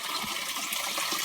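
River water from a stream near a watermill rushes steadily and close, a dense continuous wash with no pauses and no voices.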